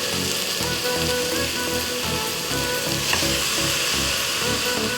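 Mutton head meat fries loudly in a pan with ginger-garlic paste, a dense, spattering sizzle like heavy rain that holds steady for a few seconds, close up with occasional stirring knocks and no speech.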